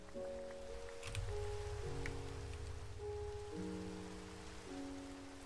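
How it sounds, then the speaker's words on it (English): Steady rain falls in the Minecraft video game, a broad continuous hiss that holds at an even level throughout, with sustained tonal background music notes running alongside it. "That's a nice time for the rain to kick on."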